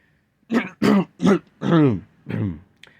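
A voice gives five short, sharp coughs in quick succession, some with a throaty vocal tone, each separated by brief pauses.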